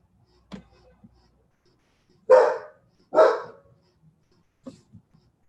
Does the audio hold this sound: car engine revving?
no